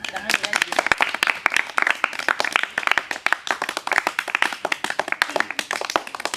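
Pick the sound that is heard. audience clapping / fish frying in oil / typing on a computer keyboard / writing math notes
audience clapping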